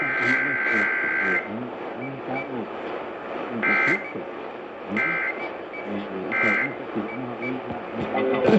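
Emergency Alert System test tones carried over a station broadcast: a steady high two-tone burst at first, then several shorter repeated bursts at a regular pulse over a busy mid-range bed of music and sound.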